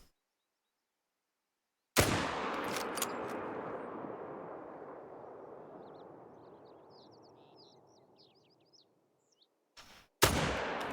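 A loud hunting-rifle gunshot from a hunting video game rings out after a short silence, its long echo fading over several seconds, with faint bird calls and a second sharp shot at the end.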